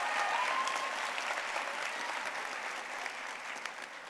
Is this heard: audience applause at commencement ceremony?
yes